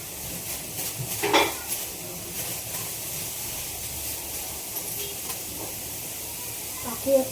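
Okra fried with chopped onion in a kadhai makes a low steady sizzle and hiss, with a few clinks and scrapes from a stirring utensil against the pan.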